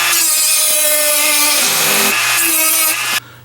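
A power tool cuts through a plastic Jeep Liberty bumper, its harsh continuous grinding loud and close for about three seconds before stopping abruptly.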